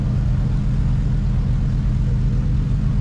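A Kalmar R supercar built on a Porsche 911 drives uphill from the start line at the Goodwood Festival of Speed, a loud, continuous low engine rumble held steady throughout, with no talk.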